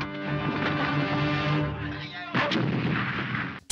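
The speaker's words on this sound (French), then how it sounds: "Il va mettre une grenade dans son Jeep et quand l'autre Jeep va arriver, ben boum!" In a jungle war film, Chuck Norris's Missing in Action, a grenade blows up a Jeep. Tonal, music-like sound gives way to a single loud, heavy blast with a rough rumbling tail, then an abrupt cut.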